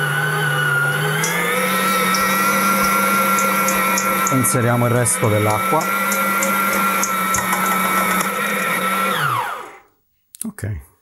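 A planetary stand mixer kneads pizza dough at speed 5 with a loud, steady motor whine and hum, then winds down and stops near the end, while a voice speaks briefly over it.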